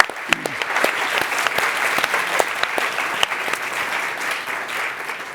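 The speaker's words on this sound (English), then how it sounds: "Let's give them a round of applause for making this" A live audience at a climate-action talk applauds the event's production crew, a steady wash of many hands clapping with a few sharper claps standing out, sustained and fairly close throughout.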